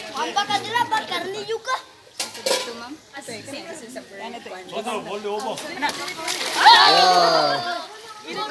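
Food tossed to crocodiles at a Cebu safari park drops into the water with a brief splash, heard under a crowd of people talking and laughing close by.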